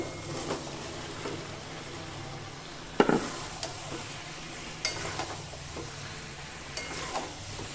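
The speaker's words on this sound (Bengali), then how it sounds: "এবার মশলার সাথে এঁচড় আলুটাকে ভালো করে কষিয়ে নিতে হবে।" Jackfruit and potato get stir-fried into a spice masala, a soft low sizzle under intermittent scraping and clinking of a spoon against the pan, with one sharper knock partway through; close and fairly quiet, no talk.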